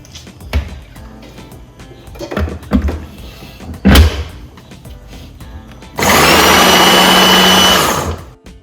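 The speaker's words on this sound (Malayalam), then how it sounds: "എന്നിട്ട് ഇതൊന്ന് ബ്ലെൻഡ് ചെയ്തെടുക്കണം" A kitchen blender whirs loudly and steadily for about two seconds while blending idli batter, after several knocks and clatters as it is set up.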